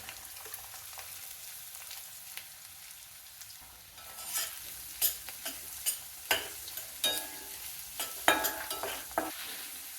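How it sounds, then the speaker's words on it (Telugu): Finely chopped onions fry in a pan over a medium-low flame for mutton masala, alongside slit green chilies. The steady close sizzle grows louder partway through, with repeated scraping and tapping as the mixture is stirred. "సన్నగా తరిగి పెట్టుకున్న ఉల్లిపాయ ముక్కలు"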